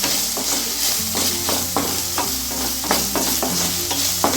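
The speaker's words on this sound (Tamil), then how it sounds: "இஞ்சி பூண்டு நல்லா இந்த பச்சை வாசம் போகிற அளவுக்கு வதங்கினதுக்கப்புறம்" Ginger-garlic paste for a veg kurma sautés in hot oil, a loud close sizzle punctuated by regular scraping strokes of a spoon against the pan.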